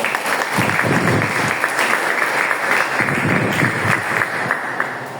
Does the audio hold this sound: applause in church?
yes